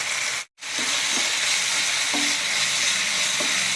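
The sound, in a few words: chicken frying in pan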